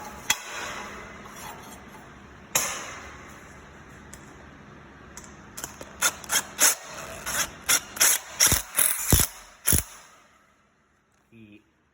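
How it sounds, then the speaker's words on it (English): Self-tapping screws driven into pipe for a chicken tractor: a long whirring drill run followed by a series of short sharp bursts as each screw seats, close and loud, ending in quiet. "I'm screwing them together with these self-tapping screws"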